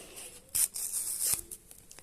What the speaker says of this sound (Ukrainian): Ось цей пакетик. Тут так само треба просто рвати.